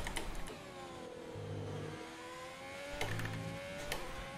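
A Ferrari Formula 1 car engine in the F1 2020 racing game whines and revs through rising and falling pitch sweeps, with brief gear-shift bursts, heard at moderate loudness without talk.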